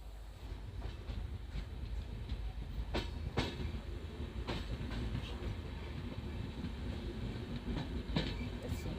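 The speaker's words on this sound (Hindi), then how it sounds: "ट्रेन हमारी निकल चुकी है गढ़वाल स्टेशन से" A passenger train leaving Gadwal station on a single-line section runs steadily, heard from on board as a continuous low rumble with rhythmic wheel clatter and occasional sharper clacks, no talking over it.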